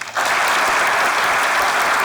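A studio audience at a Turkish sketch comedy show bursts into loud, even applause for the writers, a thick wash of many clapping hands held steady throughout.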